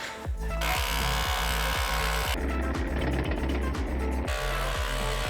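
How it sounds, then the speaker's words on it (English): Rapid, steady chiseling or jackhammer blows rattle continuously during a shower waterproofing build, each impact hard and close, with the rhythm shifting to a denser buzz midway before returning to evenly spaced strikes. "I think we're jackhammering again. Or chiseling."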